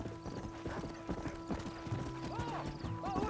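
Hooves of a horse galloping in Red Dead Redemption, a rapid steady clip-clop close by with a whinny or snort near the end, over low game music.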